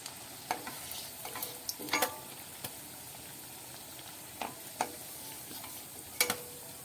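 Pieces of pre-boiled potato fry quietly in a pan, a soft, low sizzle broken by sharp clicks and scrapes from a stirring utensil at irregular moments, with no one speaking.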